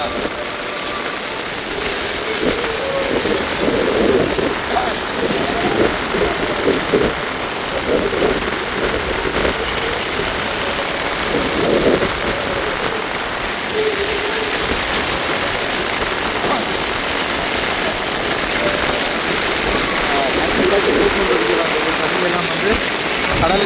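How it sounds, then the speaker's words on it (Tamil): Heavy rain and wind lash the seashore at Mullaitivu, a dense, steady roar of downpour and gusts that fills the whole stretch, with faint voices and a low rumble beneath. "மழையும் காற்றுமா இருக்குது"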